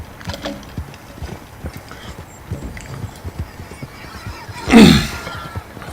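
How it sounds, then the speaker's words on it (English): Horse hooves clip-clop steadily while riding in the Red Dead Online video game, with a loud neigh rising near the end over the continuous trotting rhythm. "More riding on a horse."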